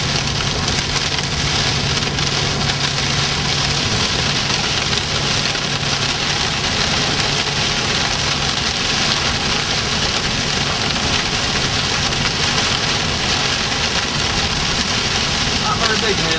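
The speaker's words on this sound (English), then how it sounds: "Not very big hail, just a little bit of stuff." Small hail falling on a car during a storm chase near the New Mexico–Texas border: a dense, steady, hissing patter drumming on the vehicle for the whole stretch, loud and unbroken.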